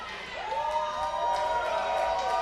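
A wrestling crowd at a live independent pro wrestling show cheers and whoops for Matt Hardy, a steady, fairly loud roar of voices with rising chants and shouts throughout.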